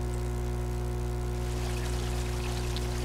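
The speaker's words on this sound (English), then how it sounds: "Have to at least block the water flow." Steady stream of water flowing in Surface 3: The Soaring City, a continuous pouring rush over a constant low hum, even and unbroken throughout, with no voices.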